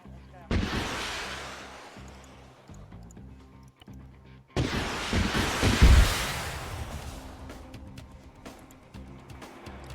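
Units in a war strategy video game firing a volley: two sharp, loud broadband blasts a few seconds apart, each decaying into rumbling tails, with scattered smaller shots between and faint talk under it.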